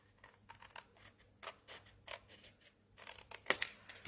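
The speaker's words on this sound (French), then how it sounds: "je vais venir maintenant découper selon mes plis, selon les lignes que j'ai tracées" Scissors snip through folded paper or card along traced lines for a surprise box, making a series of quiet, irregular close cuts with small scratchy rustles between them and no talk.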